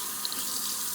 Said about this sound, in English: Just rinsing and draining that salt and water mixture